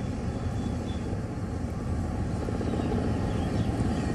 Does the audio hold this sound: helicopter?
yes